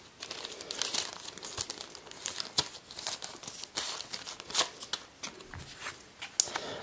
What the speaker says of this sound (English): pulling out the cards and the tokens and everything else